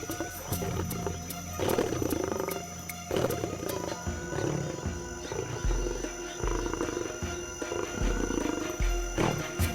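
A lion roars on the African plain: deep, heavy bellows repeat through the stretch over a constant wild background, loud and fairly close, with no talking.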